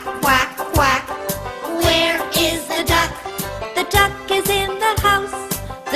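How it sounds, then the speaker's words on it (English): A children's song has a rhythmic, repeated duck quack effect set to musical backing, the quacks loud and regular against the tune. "The duck is in the house."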